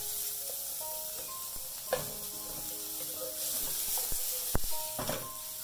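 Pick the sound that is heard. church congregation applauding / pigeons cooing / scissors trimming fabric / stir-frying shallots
stir-frying shallots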